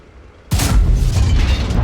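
A single loud, booming blind shot from a WZ-111G FT tank destroyer's gun in World of Tanks, with a sudden heavy blast followed by a sustained rumbling roar.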